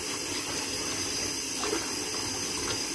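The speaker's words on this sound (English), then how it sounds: "You don't need much water because there's not many," Tap water runs into a sink for washing dishes, a steady hissing splash that holds evenly throughout, fairly close, with no talking.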